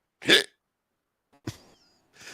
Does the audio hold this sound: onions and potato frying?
no